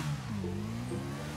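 A modified Yamaha NMAX scooter engine in GTA V, revving with a rising, wavering mid-pitched drone held steady for a moment, close and fairly loud.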